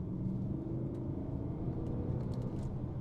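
A deep, steady V8 engine rumble from a BMW E92 M3 drones continuously, low and throaty, like a big motor idling or cruising nearby.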